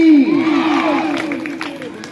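A crowd at a Ram Katha gathering in a temple erupts in loud, close cheering and shouting, with a raised voice sweeping over the noise for about two seconds.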